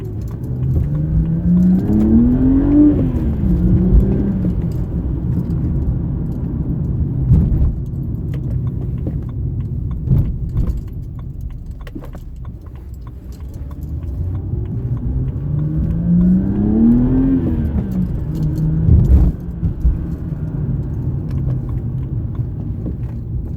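A BMW E90 sedan fitted with an aFe Magnum Force Stage 2 cold air intake pulls hard twice, its engine note climbing through each run over a steady cabin rumble, with a few jangling clicks between the pulls.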